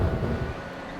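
Road noise inside a 2017 Honda Fit cabin while driving, a steady low rumble and hum, fairly loud, with no voices.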